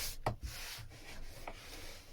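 Steady rasping strokes of sandpaper rubbed by hand across filler on a fiberglass boat hull, close and continuous with a few sharper scrapes.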